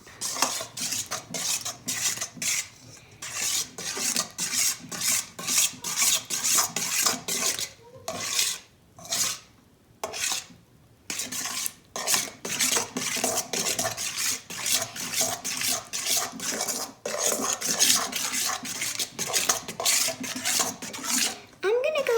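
A utensil stirs and scrapes mint slime mixed with food dye in a bowl, a rapid run of close, gritty scraping strokes with brief pauses, continuing steadily throughout.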